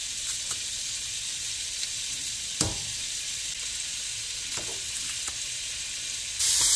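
Minced garlic frying in olive oil and butter gives a steady, quiet sizzle with a few soft clicks and one sharper tap, and the sizzle swells louder right at the end.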